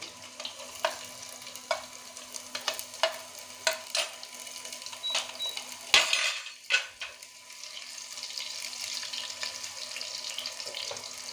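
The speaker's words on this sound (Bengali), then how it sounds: "আমি রসুন কুচি আর আদা কুচিটাও দিয়ে দিচ্ছি" Chopped garlic and ginger going into a pan for chili soybean, with a soft sizzle and a few sharp clinks and scrapes of stirring, steady frying hiss continuing after.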